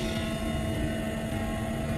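A helicopter flying low during a wild horse roundup, its steady, loud rotor and engine drone filling the air without a break.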